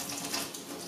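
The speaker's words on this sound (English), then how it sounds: "I'm gonna start the water so she can see that going." Water runs steadily from a kitchen sink faucet, a close, continuous hiss and splash filling the basin for a puppy Cavalier King Charles Spaniel's first bath, with no voices over it.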